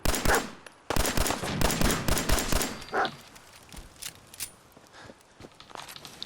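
Gunfire in Fallout 4: a rapid string of loud, close shots opens, then the shots come sparser and softer, with a few isolated cracks trailing off.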